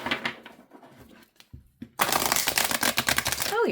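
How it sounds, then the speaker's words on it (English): Large, wide affirmation cards are shuffled by hand. Softer riffling and handling sounds come first, then a dense, loud stretch of rapid flapping and snapping cards. "let's see how they shuffle"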